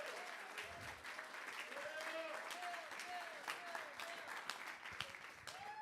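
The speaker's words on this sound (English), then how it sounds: "Let's a round of applause for Bill Warren for putting everything on." At a live-stream kickoff event, an audience applauds Bill Warren with steady, moderate clapping. A voice talks over it and a few tonal sounds are heard in the background.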